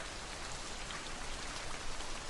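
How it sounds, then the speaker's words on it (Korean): Steady rain falling in a soft, even hiss with fine patter of raindrops, continuous and moderately faint, no voices. "비가 오는 소리를 좋아하게 된 것도"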